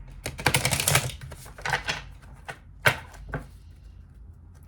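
A deck of tarot cards is shuffled close up. Soft irregular riffling bursts and taps come in uneven clusters with short gaps between them.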